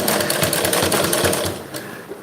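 A tailor's sewing machine stitches slowly along fine round piping on slippery fabric, a loud close mechanical rattle with a steady rhythm that eases off near the end.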